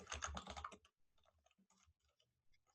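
Someone types on a computer keyboard in a terminal, first in a dense burst of close, quick keystrokes, then in sparser, softer taps trailing off.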